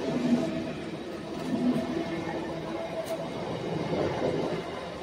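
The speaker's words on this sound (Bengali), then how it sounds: "ট্রেনে যাত্রা খুব ভালো লাগে, বলো এরকম করে ট্রেন যায় দেখতে" A passenger train runs along the rails near Ranaghat, its steady rumble and rolling wheel noise continuous and moderately loud throughout, as heard from a window seat inside a carriage.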